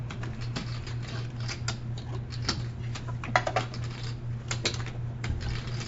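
Playing cards shuffled at a poker league table, heard as scattered light clicking and riffling ticks over a steady low electrical hum.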